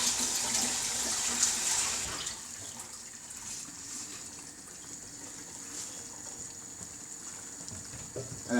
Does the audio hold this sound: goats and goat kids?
no